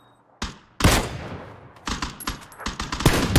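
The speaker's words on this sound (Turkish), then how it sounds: "Ben kar 98 ben sıkıyorum." Sharp Kar98 rifle shots and surrounding gunfire in PUBG during a squad tournament match, loud close cracks in quick irregular succession after a quiet start.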